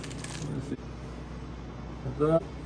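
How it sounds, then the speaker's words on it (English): Metal washers come out of a plastic bag during an IKEA PAX wardrobe assembly, giving a short metallic clink at the start and a brighter ringing jingle near the end, with quiet handling noise between. "I'm just getting the washers out of the bag."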